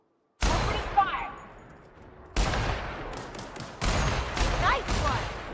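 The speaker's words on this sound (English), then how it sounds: "Opening fire!" Bursts of gunfire from a first-person shooter set on an alien frontier colony, with several separate volleys after a short silent start, loud and sharp against faint game ambience.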